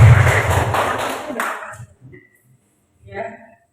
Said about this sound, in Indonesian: Bu Tini kita beri aplaus